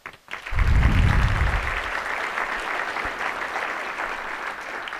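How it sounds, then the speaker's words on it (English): An audience at an annual meeting bursts into applause that swells quickly, then settles into steady, dense clapping from a sizeable crowd in a room. "but applause to them"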